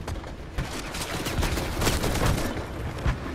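Rapid bursts of Fortnite video game gunfire crackle continuously, loud and dense with sharp repeated shots and a few heavier booms, with no one talking over them.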